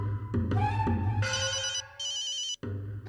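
A phone rings in a domestic comedy scene, a bright electronic ringtone with repeating melodic bursts, close and loud, pausing briefly before resuming.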